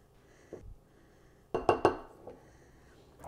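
Muffin batter with cinnamon and nutmeg is stirred in a bowl, with a few faint clinks and then a cluster of three sharper utensil-on-bowl knocks, quiet and close.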